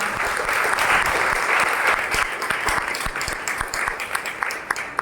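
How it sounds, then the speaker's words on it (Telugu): A crowd at a Catholic parish shrine gathering applauds in honour of a priest, a thick, continuous burst of clapping from many people that gradually thins toward the end. "అందరూ కూడా చప్పట్లు కొడుతూ అభినందిస్తున్నాం"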